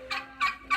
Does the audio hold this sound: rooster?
yes